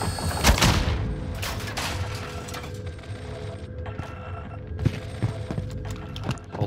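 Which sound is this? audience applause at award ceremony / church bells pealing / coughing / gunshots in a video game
gunshots in a video game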